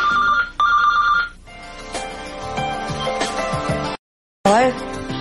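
A telephone rings twice with bright electronic trills as a call goes out from a home delivery office in New York City, followed by clicks, handset fumbling and line noise before a brief silence and a pickup.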